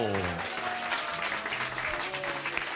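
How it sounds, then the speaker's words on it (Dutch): A studio audience claps for a contestant on a Frisian radio-TV quiz show, a steady, fairly loud burst of many hands, with a few sustained musical tones ringing through at the start. "En applaus voor jezelf"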